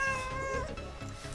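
Domestic cat meowing close by, a drawn-out tonal call followed by softer, rougher vocal sounds, heard alone without talk.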